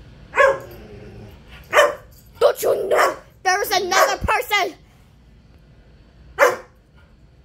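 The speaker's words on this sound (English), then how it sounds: "I'm barking at you." A dog in the Plush World hide-and-seek video game gives a few short, loud barks spaced apart, mixed with someone talking excitedly.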